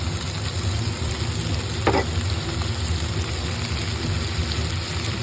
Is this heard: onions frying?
yes